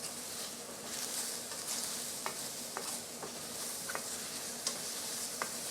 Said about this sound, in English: Use salt and pepper your mushrooms and sauteing them.